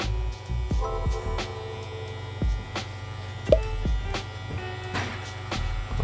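Rebel hair trimmers buzz steadily throughout a barbershop haircut on curly hair, a continuous electric hum with small clicks and shifts as the clippers move against the head.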